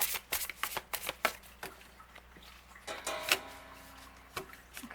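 A deck of empathic oracle cards is shuffled by hand at close range during a tarot-style reading, quick rapid riffles and flicks in uneven bursts with soft taps between.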